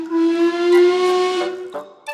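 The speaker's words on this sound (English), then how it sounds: "with a whistle that sounds like this." A cream-coloured steam tender engine sounds its whistle in one long, loud, steady tone of about one and a half seconds, followed by two short, sharp toots.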